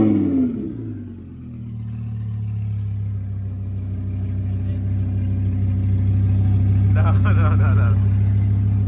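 Lexus LS430 engine running at a smooth, low, steady idle close by after a brief start, with faint voices talking in the background near the end.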